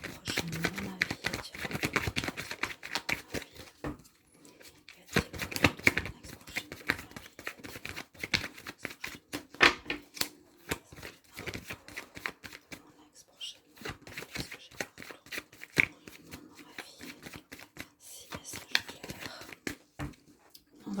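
Tarot cards are shuffled by hand at close range, giving a long run of rapid, riffling slaps and flutters with brief pauses and spoken French over parts of it.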